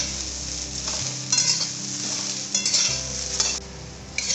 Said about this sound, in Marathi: मीडियम गॅसवर आपण ही भेंडी छान अशी भाजून घेऊया।